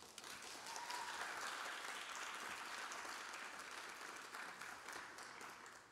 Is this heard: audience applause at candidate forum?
yes